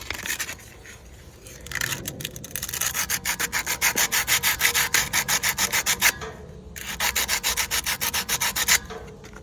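Rhythmic back-and-forth sanding strokes on an AC indoor fan motor shaft, close and scratchy, with brief pauses between runs and no talking.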